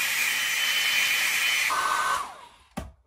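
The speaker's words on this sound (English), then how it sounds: "I take my dryer." A handheld hair dryer blows a steady, close, loud stream of air to set freshly sprayed makeup setting mist on the face, then its pitch drops and it shuts off, followed by a short knock.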